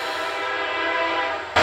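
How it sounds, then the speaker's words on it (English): A train passes close by, its loud sustained horn blaring over the rumble of the rail cars for a moment before cutting off. "Always the train."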